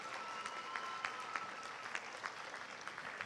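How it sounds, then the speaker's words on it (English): Sustained audience applause for parents at a middle school moving-up ceremony, a steady wash of many hands clapping at moderate distance with a few sharper claps standing out. "just want to give our parents another big round of applause"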